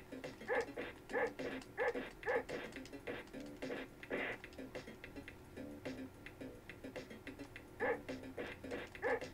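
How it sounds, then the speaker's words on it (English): Panther dogs in the Bebe's Kids video game give repeated short electronic barks in a regular rhythm over a looping game soundtrack, faint and low in level. "And now there's panther dogs?"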